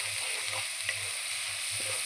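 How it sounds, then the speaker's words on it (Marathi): Masala of roasted onion, tomato, ginger-garlic, coriander and coconut roasts in oil for egg curry, with a soft, steady sizzle and gentle rhythmic stirring thumps repeating about every half second. "जरा चांगलं आपल्याला भाजून घ्यायचं मसाला तेल सुटेपर्यंत."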